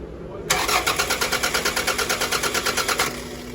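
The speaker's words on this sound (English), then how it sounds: "now we're gonna see if the engine will crank over" Starter cranking a 2000 Toyota RAV4 engine with its crankshaft position sensor disconnected: a steady, rapid rhythmic churning for about two and a half seconds that never catches and stops abruptly, close and loud with no talking.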